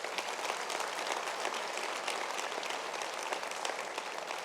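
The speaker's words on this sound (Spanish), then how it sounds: "Dale un fuerte aplauso al Señor" A church congregation gives strong applause to the Lord during a sermon, a dense, continuous wash of clapping that holds steady from start to finish without any voices.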